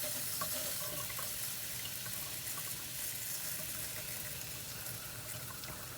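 Water runs steadily from an RV faucet during dewinterizing in a continuous hiss and splash, close by and unbroken, with no voices.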